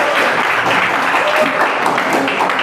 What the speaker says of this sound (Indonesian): Oke, tepuk tangan buat semuanya.